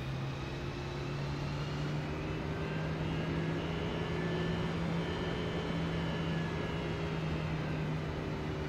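Embraer E175 airliner engines in X-Plane 11, a steady droning hum with a low tonal whine, moderately loud and unchanging throughout, no voices.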